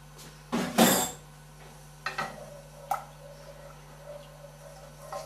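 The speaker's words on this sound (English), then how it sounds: "Keep stirring it till the cranberry jelly melts." A spoon stirring cranberry jelly and tamari in a pan makes a few scattered metallic clinks and scrapes, close but fairly quiet, with no speech.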